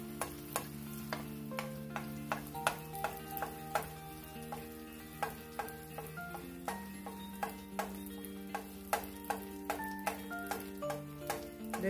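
A sweet gordita dulce puffing up in plenty of hot oil, a steady bubbling sizzle punctuated by frequent sharp clicks and taps of a utensil stirring and basting, close and fairly quiet.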